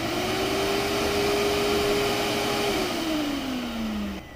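A vacuum cleaner runs as a suction source through an improvised adapter for extracting engine oil, giving a steady loud motor whine that holds pitch, then drops lower near the end before cutting off.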